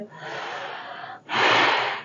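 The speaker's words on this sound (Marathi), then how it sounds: "चला श्वास घेतोय" A person breathing during an abdominal fat-loss exercise, with a long steady exhalation followed by a short pause and a louder, forceful breath, close and clear with no talking.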